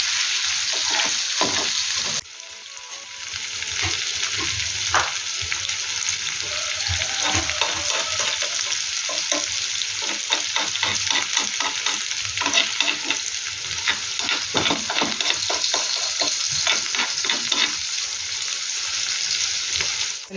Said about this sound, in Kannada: ಲೋ ಫ್ಲೇಮಲ್ಲಿ ಇಡಬೇಕು, ನಿಧಾನ ಫ್ರೈ ಆಗ್ತಾ ಇರ್ತದೆ.